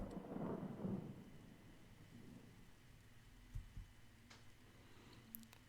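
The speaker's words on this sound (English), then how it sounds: "As I do my best to outrun the splatter of raindrops on the pavement" Rain pours steadily over low rumbling thunder in a stormy scene from the visual novel game Us Lovely Corpses, with a loud roll near the start fading into a soft hiss and a few brief cracks later on.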